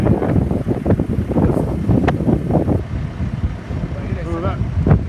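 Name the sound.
gust of wind blowing a tree climber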